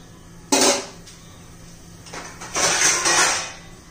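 A lid is set on a cooking pot of drumstick pods, giving a sharp metallic clank followed by a couple of louder scraping, rattling clatters as it settles, close by with no talk.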